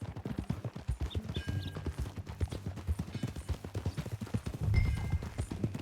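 Horse hooves clip-clopping at a steady walking rhythm in the Western game Red Dead Redemption 2, close and continuous with low thuds throughout, and a brief heavier burst near the end.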